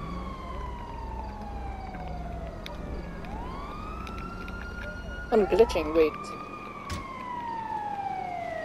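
A wailing ambulance siren in the video game GTA Online sweeps up and down repeatedly over low engine rumble, with players talking and a short burst of louder tones partway through.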